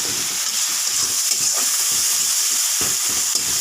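Spices and chili powder fry in a pan for a fish kalia, a dense, loud hiss of hot oil with a rhythmic series of low stirring strokes underneath, nearby and without talk.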